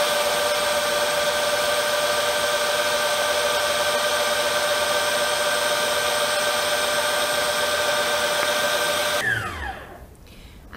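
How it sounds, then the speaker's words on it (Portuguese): Electric stand mixer beats egg whites as yolks are added for a rolled sponge cake, a loud steady motor whir holding for about nine seconds before spinning down and stopping, no talking. "Então eu vou ligar a batedeira e vou acrescentando as gemas."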